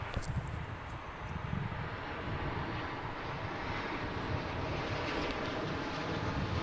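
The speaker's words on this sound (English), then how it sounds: "We've got another 777 coming in. This is going to be American Flight 102 coming in from Honolulu" American Airlines Boeing 777 on approach to land at DFW Airport, arriving as Flight 102 from Honolulu; a steady, broad jet engine roar with heavy low rumble and wind buffeting, sustained and fairly loud throughout.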